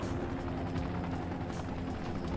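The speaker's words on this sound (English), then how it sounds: "Oh, helicopter arrived" A helicopter arriving in the video game Dying Light, a steady rumbling rotor drone with faint rhythmic chopping pulses, continuous and moderately loud throughout.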